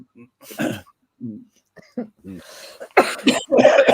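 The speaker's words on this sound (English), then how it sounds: "excuse my coughing" A few harsh coughs and throat-clearing bursts break up quieter breathy sounds, growing louder and more clustered toward the end.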